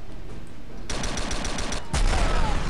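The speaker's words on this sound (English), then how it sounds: "Plus it has a secondary fire, which I think it bounces." Secondary-fire shots from a bouncing-projectile weapon in the Star Trek Elite Force 2 shooter: a steady run of rapid gunfire bursts, with a heavier, louder volley toward the end and no talking.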